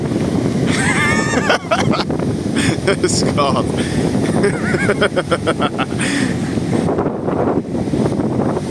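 Strong wind at a beach in Mui Ne, Vietnam, buffets the microphone in a steady, roaring rush throughout, with people talking over it.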